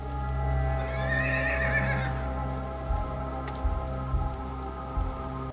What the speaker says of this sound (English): The horses seem well used to people.